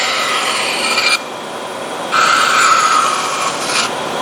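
A band saw cuts through wood in bursts, a steady raspy whine broken by a short quieter pause, then a second pass with a higher ringing tone.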